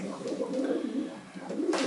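Purebred pigeons cooing in a loft, a soft, low, rolling coo repeated a few times close by with no talk.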